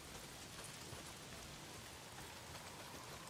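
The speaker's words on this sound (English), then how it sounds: "Well, not if it's pissing down rain." Heavy rain pours steadily in the Days Gone video game, a dense continuous hiss of drops on surfaces with no talk.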